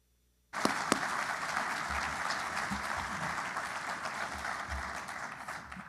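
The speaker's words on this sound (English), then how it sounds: "Let's applaud once again." Audience at a lifetime achievement award ceremony for broadcast journalism bursting into applause, dense sustained clapping from a large room starting abruptly and continuing evenly, with no speech over it.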